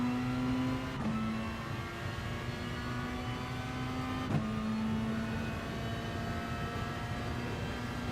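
A race car engine in the Gran Turismo Sport racing game holds a steady, high droning whine, with two brief dips as it shifts gear, loud and continuous throughout.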